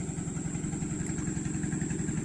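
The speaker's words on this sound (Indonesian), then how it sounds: "Itu ada katinting lewat" A katinting longtail boat engine on a river chugs steadily with a rapid, clattering pulse, sounding close and fairly loud throughout.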